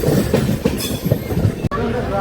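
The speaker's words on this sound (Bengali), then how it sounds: "তো এটা হলো অবধ আসাম এক্সপ্রেস।" The Avadh Assam Express passes close by, its wheels clattering rhythmically over the rails beneath a rumbling roar, while someone talks over the noise.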